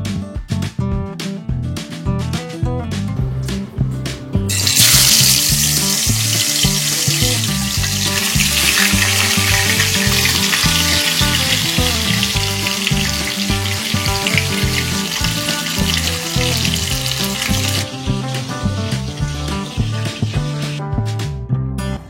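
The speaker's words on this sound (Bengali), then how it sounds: "বাহ, কি সুন্দর সর্ষে দিয়ে তেলাপিয়া মাছ রান্না করছে মা।" Tilapia frying in oil with mustard, a loud steady sizzle that bursts in after a few seconds of clattering and continues strongly before settling into a quieter, bubbling fry.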